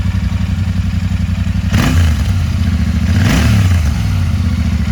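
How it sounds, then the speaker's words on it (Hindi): A Royal Enfield Continental GT 650 or Interceptor twin with an aftermarket exhaust idles with a loud, close, throbbing thump, then gets blipped twice in quick revs that rise and fall back to idle. "अच्छा, अब थोड़ा सा क्लोजली सुना देते हैं बाइक की आवाज़।"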